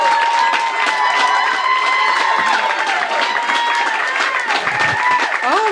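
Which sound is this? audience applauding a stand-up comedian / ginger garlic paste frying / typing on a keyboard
audience applauding a stand-up comedian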